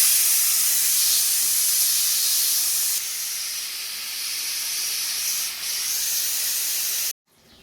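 Fish pieces sizzle in hot oil during village-style cooking, a steady bright hiss that drops slightly partway through before cutting off abruptly near the end.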